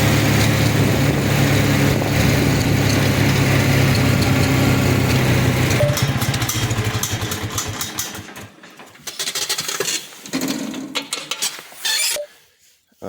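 Tractor engine running close by with a rough, busy idle that fades after several seconds into sparse clanks and quieter intermittent noise, ending in near silence.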